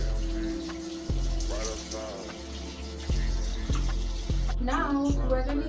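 Water runs from a sink tap during teeth rinsing, a steady close splashing stream with a few sharp knocks and clinks of objects. A voice talks briefly near the end.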